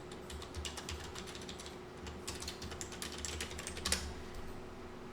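Computer keyboard keys clatter in a quick, uneven stream with short pauses while a link URL is typed, close and fairly quiet over a steady low hum.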